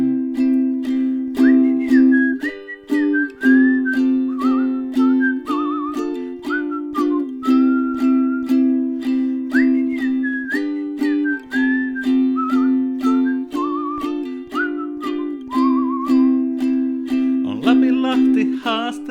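A whistled melody stands in for the chorus of a Finnish pop song, gliding and bright over a steady rhythmic backing track that runs through the whole passage.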